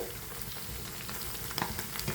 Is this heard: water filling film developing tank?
no